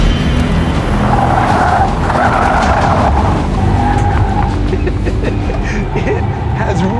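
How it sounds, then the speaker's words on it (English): A Ford Mach-E electric car slides sideways through a corner with loud, sustained tire squeal over continuous road and wind roar, the screech rising and falling in several bursts. "every time you go for the gas, it sends all of the power to the back first, getting you sideways"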